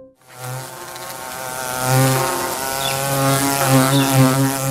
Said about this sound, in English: Ah, the humble bee.